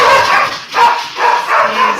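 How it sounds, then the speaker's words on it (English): Two dogs kept indoors during lockdown bark repeatedly in short bursts, close and loud, a few quick yips following one another with brief gaps between. "I am in lockdown with two very lovely dogs that like to bark a lot"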